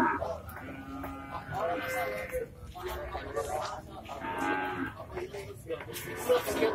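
Cattle at a busy livestock market in Ajibarang, Banyumas, lowing amid steady crowd chatter and bargaining voices, with animal calls rising over the din at intervals.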